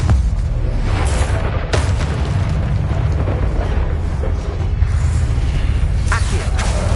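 Confringo blasting spell explosions in the video game Hogwarts Legacy, a dense barrage of loud booms and sharp bursts over a constant roar of battle noise, with a few distinct cracking hits standing out.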